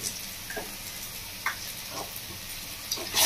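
Spices sizzling and being stirred in a pan, ground turmeric, coriander and Kashmiri chilli powder frying for Bengali khichuri with fish, with a steady soft hiss and a few light scraping stirs, close and fairly quiet.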